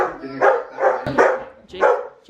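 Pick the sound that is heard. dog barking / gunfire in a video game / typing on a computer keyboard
dog barking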